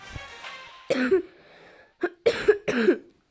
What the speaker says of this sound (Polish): mam trochę kaszel